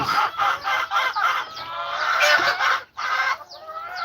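Chickens cluck in rapid, repeated bursts on a farm while a rooster crows in a long drawn-out call, the flock loud and close with overlapping calls and a brief pause before clucking resumes.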